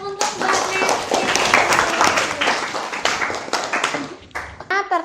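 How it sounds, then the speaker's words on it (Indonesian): A classroom of students claps for a classmate, a loud burst of hand clapping running several seconds, then tapering into scattered claps, with voices mixed in. "kasih tepuk tangan untuk Mbak Neti."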